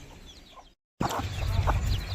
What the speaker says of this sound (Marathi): इकडे बघा हे बघा ही आहे ती कोंबडी